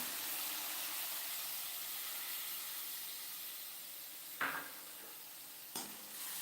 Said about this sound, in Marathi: आणि हे व्यवस्थित असं मिक्स करायचे